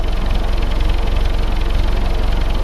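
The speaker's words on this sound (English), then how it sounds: "Of course, we're just idling." Willys CJ2a jeep engine idling close by with its thermostat in place, a steady, even low-pitched rumble with rapid regular firing pulses and no talking over it.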